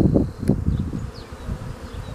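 Honeybees buzzing close up at a hive entrance as they bring in pollen, a steady insect drone with swelling and fading passes, loud and near with no voices.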